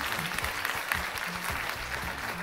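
An audience at a stage event in a community cultural centre applauds steadily, a dense continuous patter of many hands clapping throughout.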